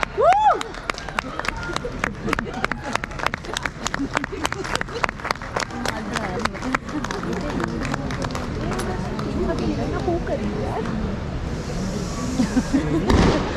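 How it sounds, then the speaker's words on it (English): A large audience at the Hornbill Festival applauds a tribal cultural performance, producing dense, steady clapping that fills the space at close to mid range, with voices mixed in and a brief crowd swell near the end. "A huge round of applause, everyone, for the poem and the butchery tribe"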